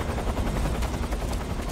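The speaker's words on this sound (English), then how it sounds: "I have to be careful not to be seen by the chopper" A helicopter in the video game Metal Gear Solid 3 gives a loud, steady rotor thump with dense throbbing noise throughout the short stretch.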